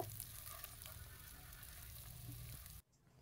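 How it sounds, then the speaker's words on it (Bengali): Basmati rice sizzles as it fries in hot oil with spices for chicken biryani, a steady close crackle with faint stirring that cuts off abruptly near the end. "তো চালটিকে আমি কিছুক্ষণ ভেজে নেব।"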